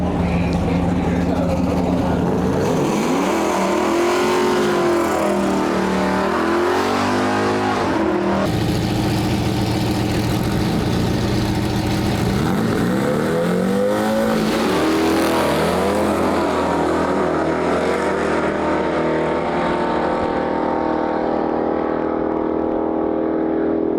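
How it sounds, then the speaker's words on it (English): A Volkswagen Beetle with a one-piece fiberglass front end makes a drag racing run, its engine revving hard through rising sweeps and gear changes, loud and close, then fading off down the strip with a second surge. "Now here we have this Volkswagen Beetle. This is his one-piece fiberglass front end Beetle."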